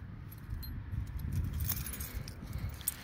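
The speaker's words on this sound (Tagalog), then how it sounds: "Ay, nahulog pa yung susi" Keys dropping onto a grassy yard outdoors, a brief soft jangle against steady low background rumble with no talking.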